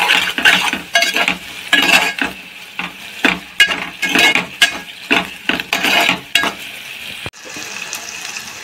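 A spoon stirs ginger-garlic paste frying in a pan for a brinjal and prawn curry, making rhythmic scraping strokes against the metal over a steady sizzle, with no one speaking.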